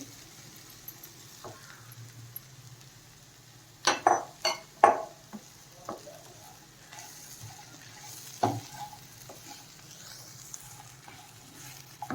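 Vegetables and roasted peanuts are stir-fried in a pan, with a faint, low sizzle and bursts of a spoon scraping and knocking against the pan in a few close clusters.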